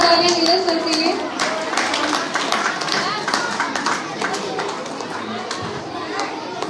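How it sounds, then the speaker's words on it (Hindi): Applause at a school talent hunt award show for Neeraj sir, a dense patter of clapping hands mixed with children's chatter and cheering, steady throughout. "जोरदार तालियां नीरज सर के लिए।"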